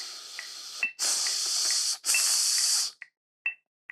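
Air blown through an oboe without sounding notes: two long, loud breathy rushes of hiss, each about a second, with a few brief puffs and key clicks before and after, played alone.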